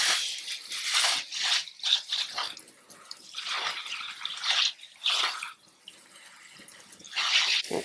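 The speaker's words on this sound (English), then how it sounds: "these guys have been outdoors, so we're going to give them a good wash." Garden-grown cucumbers and herbs being rinsed and rubbed under running water, with irregular splashing and dripping bursts close by, rising and falling in short surges with no talk.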